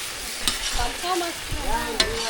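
Partly cooked potato chunks tossed with masala in a pan, stirred with scraping strokes over a steady, soft sizzle of frying oil, with sharp clinks from the spoon.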